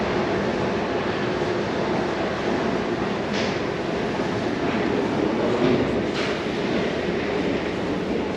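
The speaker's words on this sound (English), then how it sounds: "you see the Silver Star there behind me, departing, headed to their next stop" Amtrak Silver Star passenger train pulling out of the station in Wilmington, Delaware, a steady broad rumble of rolling cars with faint rail clatter, sustained and fairly loud throughout with no talk.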